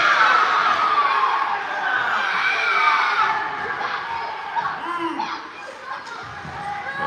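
Spectators at a youth squirt ice hockey game shout and cry out after a trip, a loud swell of mixed voices that gradually eases off.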